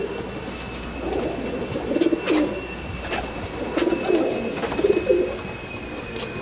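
Pigeons kept in a net coo in several low, throaty bursts that rise and fall, close by over a steady outdoor hum, with no talking.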